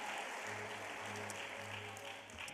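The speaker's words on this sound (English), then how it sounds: "Big round of applause for Eastlake Elementary Teacher of the Year," Faint, steady applause fills a Teacher of the Year celebration hall as an Eastlake Elementary honoree is recognized, a distant wash of clapping with no break and no clear voices.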